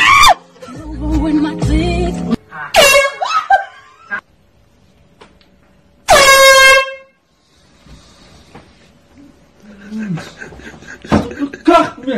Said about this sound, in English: C-Sense air horn. They told me this is really loud